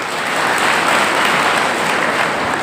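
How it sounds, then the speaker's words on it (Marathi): A large audience at a trainee gathering in Nandurbar claps loudly and continuously, a dense, even wash of applause with no pauses. "तुम्ही स्वतःसाठी एकदा जोरदार टाळ्या वाजवा"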